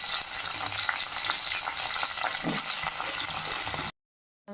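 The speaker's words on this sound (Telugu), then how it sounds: "ఆయిల్ బాగా హీట్ అయిన తర్వాత మనం కట్ చేసి పెట్టుకున్న ఈ దొండకాయ ముక్కల్ని ఫ్రై చేసుకోవాలి" Ivy gourd pieces frying in hot oil, a loud dense continuous sizzle with occasional stirring clatter close by, ending abruptly in silence, with no talk.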